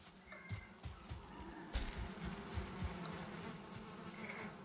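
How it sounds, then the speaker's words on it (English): Bees buzzing around hives on a farm in the video game Valheim, a faint, steady droning hum with soft low thumps and rustles underneath, no talking. "Good bees."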